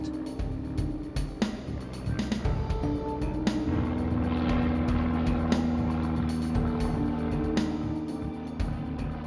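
A light surveillance airplane drones overhead in a steady, continuous hum that holds at an even level for the whole stretch, with no voices.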